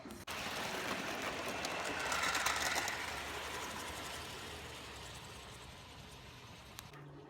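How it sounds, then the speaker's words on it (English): Pennsylvania Railroad passenger model train running on a layout, a steady close mechanical rattle and clicking of wheels and gears that swells briefly then fades slightly, with a sharp click near the end. "Here goes our Pennsylvania Railroad passenger train."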